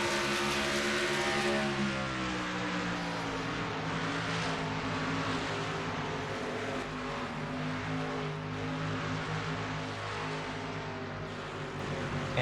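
A race car engine heard on a ride-along with Cal Weathers in a Piston Cup racing game at Homestead-Miami Speedway, a loud continuous roar with gently rising and falling pitch, steady throughout with no voices.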